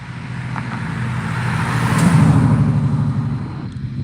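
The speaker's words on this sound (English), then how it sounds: "Here comes a car down this one." A car on a North Carolina road approaches and drives past close by, its loud tire and engine roar swelling to a peak midway and then fading.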